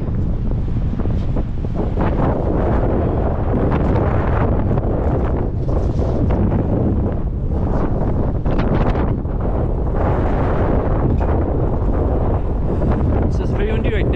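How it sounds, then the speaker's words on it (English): Strong gusts buffet the microphone during a downtown walk along Centre Street in Calgary, a loud, continuous low rumble with irregular swells throughout. "So it's very windy right now"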